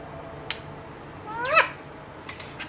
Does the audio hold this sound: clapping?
no